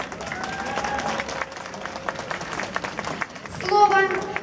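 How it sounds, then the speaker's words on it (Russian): An outdoor crowd in Simferopol claps at a patriotic Victory Day gathering where a huge banner is unfurled. Scattered applause mixes with chatter and children's voices, and a louder voice breaks in near the end. "поблагодарим их аплодисментами"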